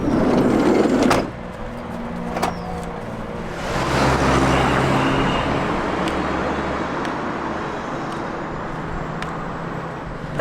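Motor vehicles on a roadside in Peru, with a loud passing rumble at the start, then another vehicle swelling and fading; a steady traffic hum fills the background and a few sharp knocks cut through.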